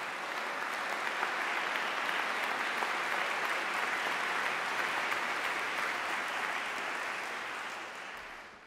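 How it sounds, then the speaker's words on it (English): Audience applause at an honors convocation, a dense even wash of clapping that holds steady for several seconds before thinning and fading out. "How about another round of applause?"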